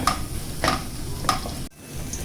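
Vegetables stirred with tomato ketchup in a hot pan while cooking crispy chicken, giving a close sizzle with three distinct spoon scrapes, then a brief near-silent gap before the sizzle resumes.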